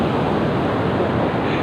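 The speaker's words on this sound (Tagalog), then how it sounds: "may mas malaki pang alon na parating." Ocean waves roll in at Paratong Beach in La Union, a continuous broad rushing wash with wind noise, close and loud with no break.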